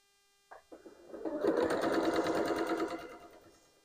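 A sewing machine stitches a half log cabin quilt block, starting with a couple of short clicks before running in a steady, close, fairly loud whir for about two and a half seconds and then stopping.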